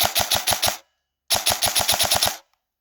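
A ZCI M4 airsoft AEG rifle fires on semi-automatic in two quick bursts of rapid, evenly spaced snappy shots, loud and close, with a short silent pause between the strings and no talking.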